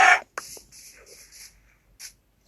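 A chicken in Minecraft clucks several times in quick, uneven succession, with a brief squawk at the start and a final short cluck.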